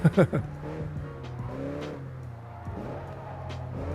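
Race car engine revving with tire squeal in a drifting video game with JDM cars, running steadily under someone talking, with a sharp squeal burst at the start.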